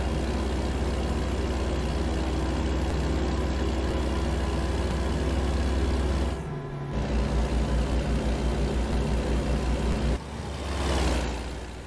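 A Cummins QSK19 heavy-haul truck engine in American Truck Simulator, paired with an Endurant XD transmission, drones loud and steady at cruise, with two brief dips and recoveries that sound like shifts or throttle changes, and no voices.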